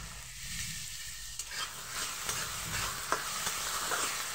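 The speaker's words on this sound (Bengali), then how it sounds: "এই আলুটাকে দিয়ে দিলাম। ওটাকে একটু ভেজে নেবো" Chopped potatoes fry with salt in a pan, a steady close sizzle broken by repeated scraping stirs, with no talking.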